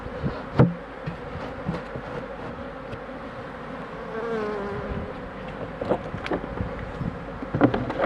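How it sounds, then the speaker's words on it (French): Honeybees swarm thickly around a beekeeper working an open hive in spring, a steady close buzzing drone with individual bees zipping past the microphone and occasional knocks of hive handling. "C'est toujours le plaisir de venir prendre un petit bain d'abeilles."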